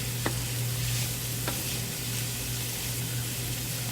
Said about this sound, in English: Just stir that around.